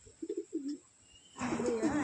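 Pigeons in a loft give a few soft, low coos, then a louder burst of cooing and fluttering noise, with someone speaking in the background.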